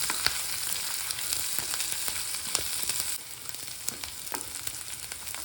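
Ginger and other ingredients sizzle steadily in a pan as they are stirred for a village-style country chicken curry, with scattered scraping clicks from the stirring over a continuous fry hiss and no talking.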